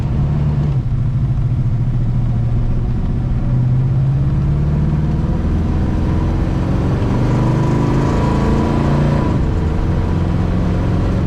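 A 1957 Chevrolet 210 two-door post is driven, its engine rumbling loudly and continuously, rising through the gears in repeated climbs with shifts in between.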